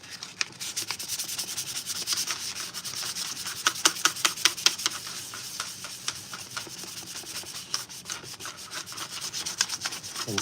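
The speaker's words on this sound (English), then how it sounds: "So let's grab some sandpaper." Hand sanding with 400 grit sandpaper on a scratch-built prop piece, a steady close rubbing texture with faster stroke bursts partway through, alone without talk.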